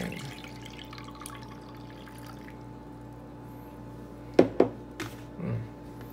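Warm water poured into a container for washing cloth face masks, a few short splashing pours near the end over a steady background hum.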